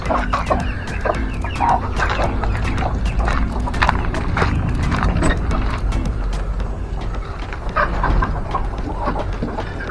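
Dense clucking from a flock of chickens, near and continuous, with overlapping calls and faint mechanical rattling in the background.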